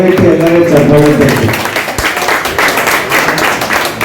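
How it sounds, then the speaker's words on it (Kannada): Audience clapping at a felicitation ceremony for a bhajan group in Toragarahalli, Aluru taluk, Hassan district. Brief speech comes first, then a burst of fairly loud, continuous applause fills the rest. "ದಯವಿಟ್ಟು ಎಲ್ಲರೂ ಚಪ್ಪಾಳೆ"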